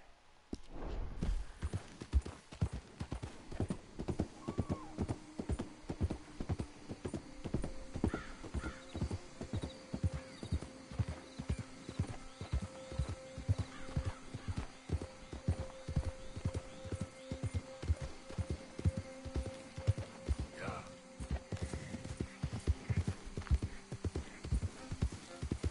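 Clip-clop of horse hooves at a steady walking rhythm as a rider moves along in Red Dead Redemption II, with an occasional whinny and faint game music underneath.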